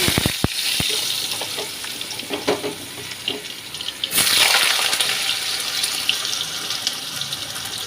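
Potatoes drop into hot oil with cumin and asafoetida for a banana-blossom curry, making a steady close sizzle with early clicks and a crackling surge midway, with no talk.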